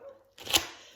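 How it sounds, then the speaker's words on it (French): A single short dog bark sounds nearby, sharp and brief, after a moment of near silence. "désolé si vous entendez un chien."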